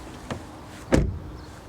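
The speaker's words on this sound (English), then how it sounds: "we also check door closing sounds and so on" A 2023 Toyota Corolla facelift door closing: a light click, then one solid thump close by, followed by quiet.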